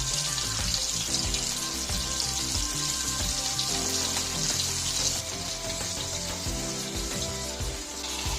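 Okra (lady's finger) frying in a pan for a stuffed masala, with a steady broad hiss and sizzle and low clatter of stirring throughout, fairly loud with no talking.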